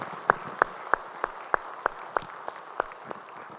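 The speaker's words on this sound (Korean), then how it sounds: "우리 찬양 박수 주님께 영광의 박수 올리겠습니다." Church congregation clapping in unison during Sunday worship, about a dozen sharp, evenly spaced claps in a steady beat, fairly faint against a quiet hall with a few voices underneath.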